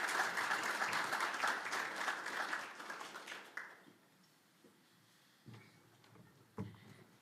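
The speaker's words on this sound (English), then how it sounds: "Please give her a big round of applause this morning." At a WorkSafe ACT industry breakfast event, an audience applauds loudly for about three and a half seconds. The clapping then fades into a quiet room with a few scattered knocks.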